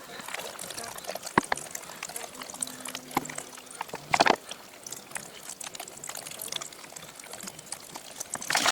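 Water is poured into a beehive frame to fill the comb cells, a steady trickle and splash running at close range with brief louder bursts, no talk over it.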